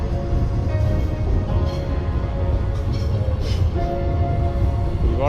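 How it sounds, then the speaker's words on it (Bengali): A train rumbles past overhead on a bridge in London, a loud steady roar with rising metallic tones and squeals, continuous throughout. "এই যে উপরে ট্রেন যাচ্ছে, ওই যে ট্রেন যাচ্ছে"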